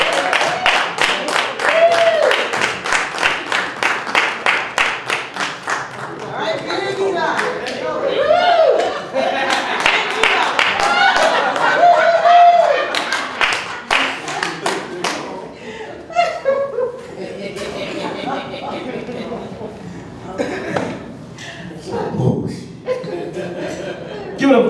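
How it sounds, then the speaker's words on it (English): Audience clapping, chuckling and cheering at a stand-up comedy show in Leimert Park as comedian Big Eli is welcomed to the stage; a sustained crowd round of applause mixed with laughter and talk over a microphone. "I'm going to give her a round of applause for Big Eli"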